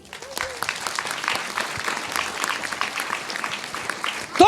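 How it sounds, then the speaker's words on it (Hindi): Congregation clapping loudly in a church service, a dense, sustained wash of applause lasting throughout at a steady level, with a voice briefly heard near the start. "जोर से ताली बजाओ।"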